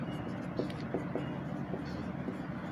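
Chalk or marker scratches across a board in short, quick strokes while an equation is worked out, faint and close over a low room hum.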